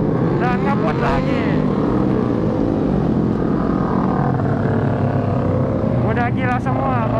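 Motorcycles ridden through night traffic in Bogor, a steady loud engine and road roar throughout with passing vehicles swelling near the start and end, and a rider's voice talking over the noise.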